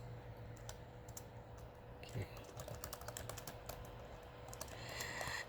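Typing on a computer keyboard while coding in a print-command lesson, quiet scattered key clicks in irregular bursts, close, with a low background hum.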